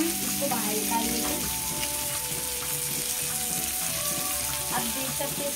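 Tandoori chicken cooking on a grill gives a steady, close sizzle and crackle that holds evenly throughout with no talking, while a few faint tonal clinks sit underneath.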